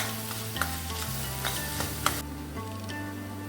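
Byadgi chilli powder sautéed in dal gives a soft, steady sizzle with light clinks and scrapes of a spoon stirring, close and fairly quiet.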